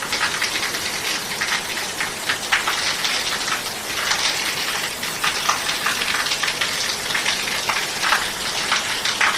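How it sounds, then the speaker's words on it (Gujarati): Steady rain falls throughout, a dense hiss of drops hitting surfaces close by with no break, loud and continuous and with no voices. "જો ભાઈ વરસાદ આવે છે,"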